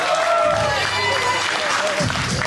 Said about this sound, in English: And you hear the crowd chanting,